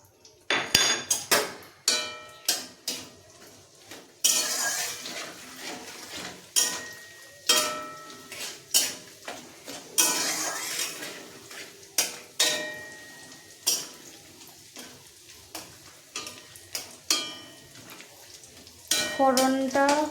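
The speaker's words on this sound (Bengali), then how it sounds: "শুকনো লঙ্কা ফোড়নে দিয়ে দিলাম।" Cumin, bay leaf, garam masala and dried chillies temper in a little hot oil, with a soft sizzle under frequent sharp clanks and scrapes of a spoon against the pan, close and continuous.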